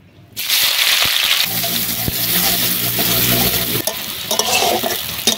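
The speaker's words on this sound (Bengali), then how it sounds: "দিয়ে দিচ্ছি কড়াইতে তেল, তেল গরম হয়ে গেছে, দিয়ে দিচ্ছি পেঁয়াজ কুচি" Finely chopped onion dropped into hot oil in a wok, bursting into a loud, dense sizzle that holds steady, with a few stirring scrapes and rattles of the pan.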